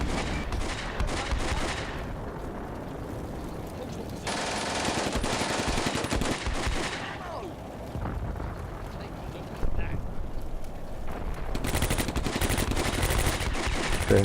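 Machine-gun fire in the WWII tactics game Combat Mission: Beyond Overlord, dense sustained bursts of gunfire with rumbling battle noise and a couple of louder surges, continuous throughout.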